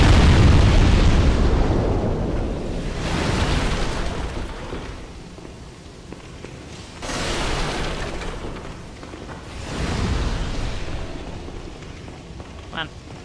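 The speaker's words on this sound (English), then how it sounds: "Shoot your fireballs." Fireballs exploding in the video game Demon's Souls, a few broad booming bursts spaced several seconds apart over a continuous low rumble, with a faint voice underneath.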